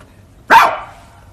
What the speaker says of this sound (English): Ah, the obligatory dog.